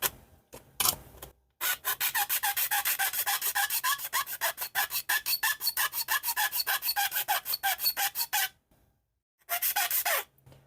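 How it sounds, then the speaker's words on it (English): A hand file rasps across the plastic front housing of a 1989 Game Boy in quick, rhythmic back-and-forth strokes, a harsh scraping that runs for several seconds, pauses, then resumes. It sounds close and loud, with no talking. "So if I'm filing into the corner, as long as I put the smooth side into the corner"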